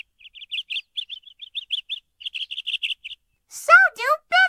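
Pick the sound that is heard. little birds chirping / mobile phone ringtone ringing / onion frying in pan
little birds chirping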